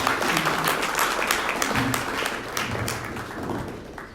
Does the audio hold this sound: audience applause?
yes